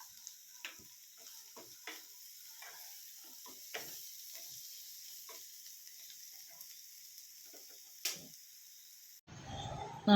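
Chopped vegetables and coriander leaves sauté in a pan with a soft, steady sizzle, broken by scattered scraping taps of a spoon stirring, close and fairly quiet throughout.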